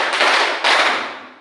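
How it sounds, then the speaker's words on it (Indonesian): Classroom of students clapping together in a counted rhythm: two loud, sharp group claps in unison, each ringing out with a long reverberant tail in the room. "yuk kita tepuk dulu ya"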